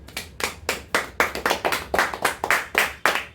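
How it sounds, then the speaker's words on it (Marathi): A small group of people clapping by hand at a birthday party, brisk and steady for several seconds, about a dozen close, fairly loud claps in an even rhythm, no voices. "टाळ्या वाजवा जरा"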